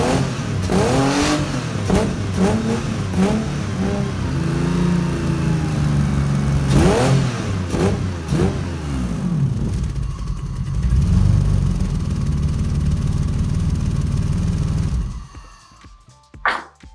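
A BMW V12 M70 engine, fitted with 325i fuel injection, revs up hard several times toward full throttle, each time rising and falling in pitch. It then settles into a rough idle before cutting out abruptly near the end.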